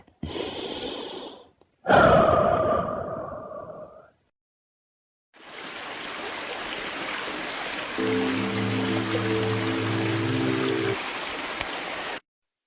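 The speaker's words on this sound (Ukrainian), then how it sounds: "Робимо глибокий вдих через ніс та видихаємо через рот." A deep breathing exercise for preschool children: a quick inhale through the nose, then a long, forceful breathy exhale through the mouth, followed after a pause by a steady hissing airflow.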